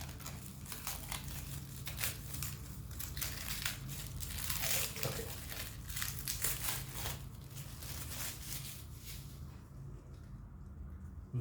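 Polythene wrapping is crinkled and pulled off a mini UPS, a close, continuous rustling and crackling with short bursts of tearing, with no voices over it.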